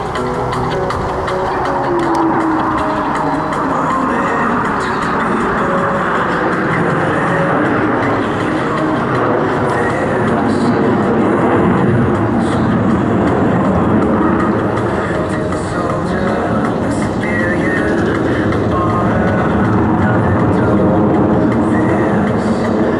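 Blue Angels jet formation at the 2012 Sioux Falls airshow, a loud, continuous roar of jet engines rolling into a looping maneuver, broad and steady throughout with faint announcer talk in the background.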